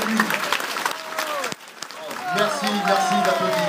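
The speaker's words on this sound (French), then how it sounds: "Merci d'applaudir chaleureusement Christian Dornelas." An audience breaks into warm applause at a French demonstration event, dense clapping that dips briefly then swells again, with a voice speaking over it.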